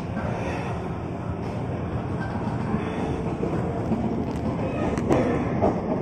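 A KRL Commuter Line train rumbles steadily on the Tanah Abang–Rangkasbitung route at night, heard from on board, with rolling, clattering noise and occasional squeals, loud and continuous throughout.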